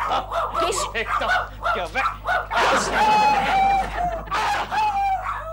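Dogs barking in a Hindi household comedy scene, several quick barks overlapping with people talking loudly over them.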